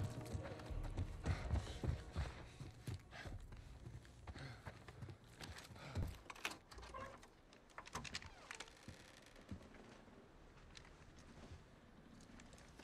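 Horse hooves clip-clop on the ground in The Last of Us Part 1, faint and irregular amid game ambience and soft movement noises.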